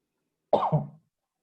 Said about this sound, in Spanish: Ya me dio tos